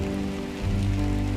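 Light drizzle patters steadily on surfaces in the early dawn, a soft continuous hiss of fine raindrops with a low hum underneath, no voices.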